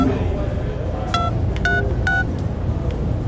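A jail telephone is dialed, and several touch-tone beeps ring out one after another, clear over a low, constant background hum.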